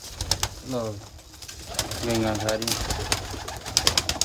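Pigeons coo in low, rolling bursts close by at a rooftop loft, two clear calls standing out among rustling, while someone talks over them.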